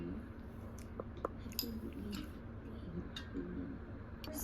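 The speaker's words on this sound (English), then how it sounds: "It's her eating my bread. Chewing," Someone nearby chews bread, soft squishy mouth sounds and small crunches repeating steadily over a low background hum, with occasional ticks.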